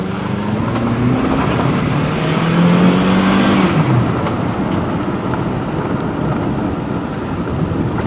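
A 2005 Honda CR-V engine revs up under wide-open throttle, its pitch climbing steadily for about four seconds before dropping with a shift, amid loud wind and road noise.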